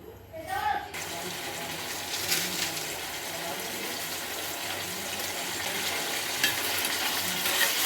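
Chicken pieces with coarse salt frying in oil, stirred in the pan, with a steady, loud hissing sizzle that settles in after a brief clatter at the start.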